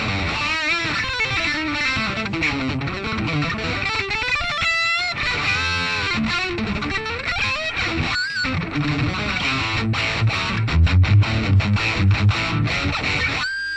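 An electric guitar runs through a Joyo preamp pedal set to a Friedman amp model. Distorted riffs, bends and chords sound close and loud for the whole stretch, with no speaking.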